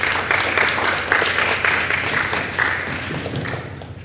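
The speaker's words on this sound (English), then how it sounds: "Give him a round of applause, please." Moderate applause from an audience at a 2014 CARIFTA team press briefing, steady patter of clapping lasting throughout, medium distance, somewhat thin as from a modest room of people.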